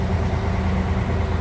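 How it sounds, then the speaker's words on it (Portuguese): A sugarcane truck's engine runs steadily close by while its trailer air system charges, a loud, dense low rumble that holds level throughout with no talk. "Tá um barulhão do caminhão aí."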